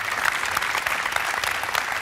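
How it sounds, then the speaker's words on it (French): An audience at a French Salesforce1 Platform tech presentation applauds the speaker, a steady dense wash of many hands clapping at moderate volume, continuous for the whole stretch with no voices on top. "Je vous propose quelques applaudissements pour la qualité de l'intervention"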